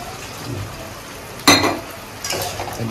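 Water splashed into a sizzling spice masala in a pan bursts into a sharp, loud hiss that fades, followed by a second smaller surge of sizzling over a low background crackle.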